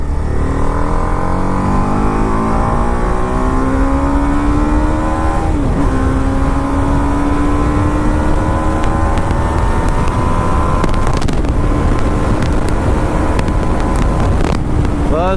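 A BMW G 310 RR motorcycle pulls hard through its gears, the engine note climbing steadily in pitch, then dropping briefly at each upshift before rising again; loud, close and continuous, with no talking.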